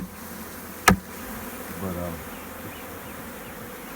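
Honey bees buzzing steadily around a hive box during a bee removal, a dense close drone with a sharp knock and a brief spoken word over it.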